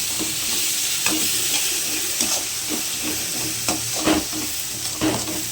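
Tomatoes frying in a pan with a steady sizzle and hiss, punctuated by repeated scraping stirs at an irregular rhythm, close and fairly loud, no voices.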